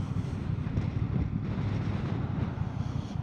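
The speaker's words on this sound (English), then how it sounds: "That wind is strong." Strong wind buffets a motorcycle rider, producing a steady, loud low rumble of wind blast without pause.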